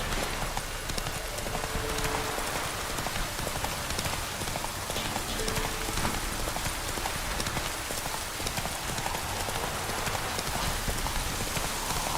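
Roach the horse gallops in The Witcher 3 in the Velen region, with steady rapid hoofbeats under a constant wash of rain, heard continuously at a moderate level.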